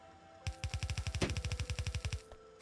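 Gun turrets firing in the video game Factorio, a steady rapid burst of about twelve evenly spaced shots lasting close to two seconds over a faint background hum.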